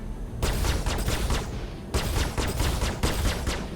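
Rapid automatic gunfire from a space combat video game rattles in three long, loud bursts separated by brief pauses, close and dense with a booming low end.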